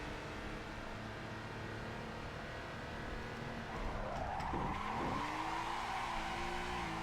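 A car slides with sustained tire squeal in Assetto Corsa, the screech rising and bending in pitch over a steady engine drone, loud and close without talk.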